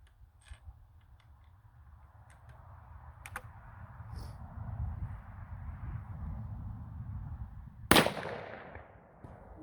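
A .454 Casull HSM bear load fired from a rifle with a 28-inch barrel: a single loud, sharp shot near the end, ringing out over quiet outdoor background noise.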